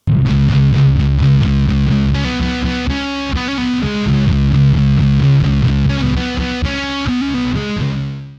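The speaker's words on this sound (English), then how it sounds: "fuzz really comes to life when using a guitar's neck pickup" Electric guitar through a fuzz effect, played as thick, gritty sustained chords and riffs with saturated, buzzing tone, loud and alone without any talk.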